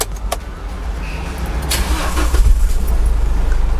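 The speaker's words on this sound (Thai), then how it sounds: "สตาร์ทรถฟังเสียงเครื่องนะคะ" A 2018 Isuzu D-Max 1.9 Ddi diesel single-cab pickup engine cranks and catches, then settles into a low, steady idle rumble, close and fairly loud.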